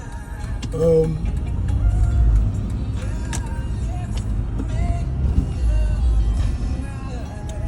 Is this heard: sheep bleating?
no